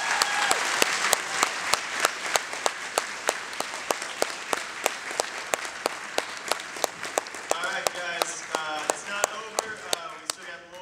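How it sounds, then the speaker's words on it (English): Audience applause for actor Tobin Bell at a Texas Frightmare Weekend Q&A panel, a sustained, dense round of clapping from a crowd with sharp individual claps standing out, lasting throughout. "Big round of applause for Tobin Bell."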